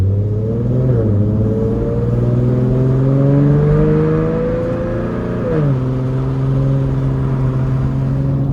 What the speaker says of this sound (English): So I hope you can hear the lovely sound of this engine.